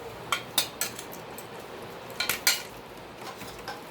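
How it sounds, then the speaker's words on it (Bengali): Boiled potato is mashed together with bitter gourd in a metal bowl, giving a series of sharp clinks and scrapes of utensil against dish, spaced irregularly with no talking. "আর আলু দিয়ে এই উচ্ছেগুলো মেখে নেব।"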